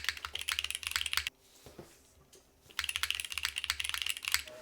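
Rapid, crisp keystrokes on a Vida prototype mechanical keyboard with a Nixie spacebar, in two close bursts separated by a brief pause with a few softer clicks.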